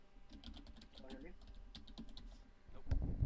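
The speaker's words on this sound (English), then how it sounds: "I'm typing notes, man." Typing notes on a computer keyboard during a Dungeons & Dragons session, a steady patter of key clicks running under low background chatter and room noise, with a louder thump near the end.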